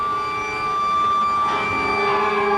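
Fire engine sirens wail together in a long, steady blare at a Newtown Square homecoming for returning firefighters, sounding moderately distant with no talking over them.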